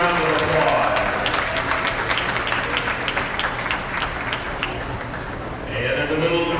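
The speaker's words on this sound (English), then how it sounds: "Let's give all those weathers a good round of applause." A crowd at a county goat show, Putnam County's 2025 grand drive, claps steadily for the winning wethers, with dense, continuous applause that stays loud and even from start to finish.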